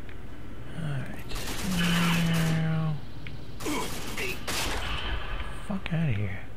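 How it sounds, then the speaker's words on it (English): Gunfire in the video game RAGE, with bursts of shots sounding under a player's spoken voice and game speech. "What are they shooting me with?"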